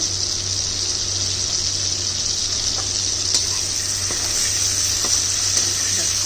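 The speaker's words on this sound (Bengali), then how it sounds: "চিংড়ি মাছটা আমি ভেজে তুলছি" Prawns lightly frying in hot oil in a pan, an even continuous sizzle with occasional faint clicks of a utensil, steady and close, with a low hum underneath.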